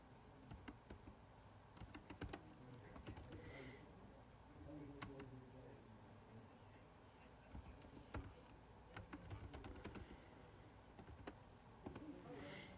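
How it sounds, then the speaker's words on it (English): Faint, quiet typing on a computer keyboard, with irregular clicks and short rapid bursts of keystrokes spread across the whole stretch over a soft background hiss. "let me just type that out here"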